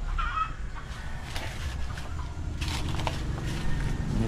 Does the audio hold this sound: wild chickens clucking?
yes